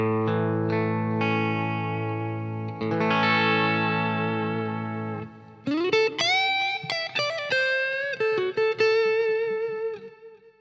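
An electric guitar runs through an Audio Kitchen Small Trees overdrive pedal pushed harder to break up. Long sustained chords ring out, then a run of quick, bright, driven single-note licks follows, with no talking.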